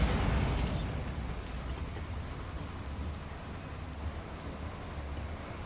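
A Bombarda spell explosion in Hogwarts Legacy bursts sharply at the start, then decays into a long, low rumbling roar that lingers at steady volume for several seconds with no talking.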